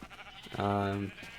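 A Minecraft sheep gives a single bleat, about half a second long, loud and close, with brief game noises before and after it.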